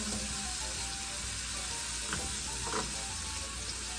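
Garlic fries in a pan, added to softened onions for a vodka penne sauce, giving a strong, steady sizzle throughout with a couple of faint stirring scrapes.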